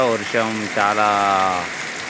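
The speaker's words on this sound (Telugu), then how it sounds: "ఈరోజే అద్భుతంగా మరి కొంచెం వాకిళ్ళలో వరద వచ్చే మందమైన వర్షం పడుతుంది" Heavy rain falls around a house, hard enough to flood the courtyards, making a steady hiss beneath a voice that talks over it throughout.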